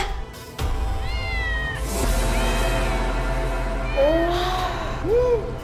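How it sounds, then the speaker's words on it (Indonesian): A cat meows several times, drawn-out and fairly close, with a low rumbling background and soft voices in between. "Kucing. Cuma kucing."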